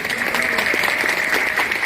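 Audience applause at a bookstore library stage event with novelist Bernard Werber, a steady dense clapping wash from a crowd lasting under two seconds, fairly loud and continuous.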